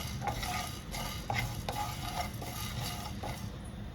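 Whole spices for a prawn ghee roast masala stirred in a dry pan over heat, a spoon scraping and clinking at a steady rhythm over a soft background sizzle, close and continuous, no talking.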